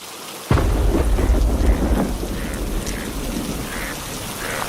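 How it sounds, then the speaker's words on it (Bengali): Heavy rain pours steadily as a sharp thunderclap cracks in near the start and rumbles on, leaving a dense wash of downpour with no voices. "সকাল থেকে যা বৃষ্টি শুরু হয়েছে,"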